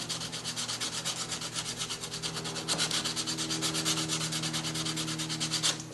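Steady hand sanding on the nose of a part during paint prep, a continuous rhythmic rasp of back-and-forth strokes, close and fairly loud, with no voices.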